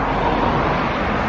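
Steady, dense road traffic rumbles close by on a hot day, a continuous broadband roar with no gaps and no talking over it.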